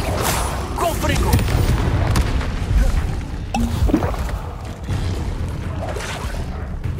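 Booming blasts from the Confringo explosion spell in Hogwarts Legacy, several heavy impacts within dense, loud combat noise, with spoken voices mixed in.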